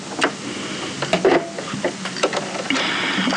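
A sewing machine understitching a combined garment facing runs in short, uneven bursts of mechanical whirring and clicking, close and fairly loud, with pauses between runs and a steadier hum toward the end; no talking.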